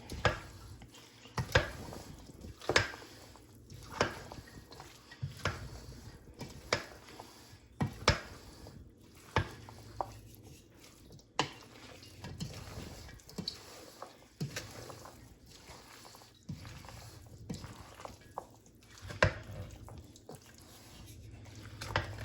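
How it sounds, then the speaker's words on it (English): A bacon salad is tossed with dressing in a bowl, giving a long run of irregular soft clacks and wet squishes at close range, fairly quiet overall. "we're gonna add this dressing and give it a good mix"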